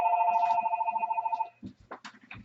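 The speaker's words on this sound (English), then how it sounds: "my phone is ringing" A phone rings indoors with a rapid trilling bell tone, held steadily for about a second and a half before stopping, followed by faint rustling and a brief murmured voice.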